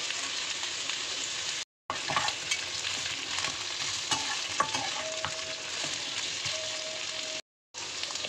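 Bay leaf, jaluk pepper and green chilli fry with pork in a pan, a steady dense sizzle with occasional stirring clinks, cut by two brief silent gaps.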